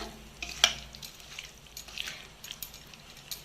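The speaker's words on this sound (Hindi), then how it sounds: "ए सब को आमे भलो भाव रे गोळेई नबा" A spoon stirs marinated chicken in a bowl, giving soft, close, wet squelches and light scrapes with occasional small clinks.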